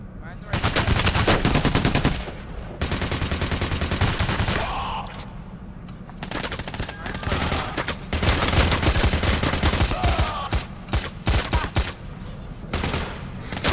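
Rapid automatic gunfire in the heist video game Payday, long dense bursts of shots with brief gaps between volleys, loud and close.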